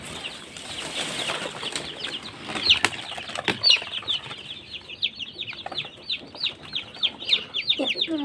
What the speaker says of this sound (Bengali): এই যে এগুলো হচ্ছে ব্রুডিং এর বাচ্চা আমি রেখেছি